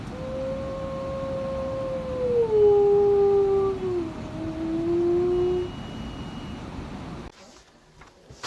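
A Dogue de Bordeaux dog lets out a long, wavering howl that rises and slides in pitch for several seconds, fairly loud and close, before it stops abruptly.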